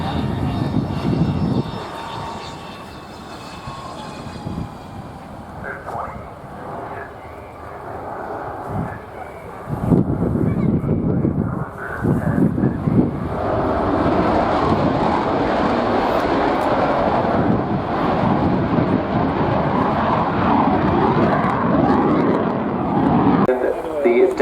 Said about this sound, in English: let's try and listen out if we can for the chase car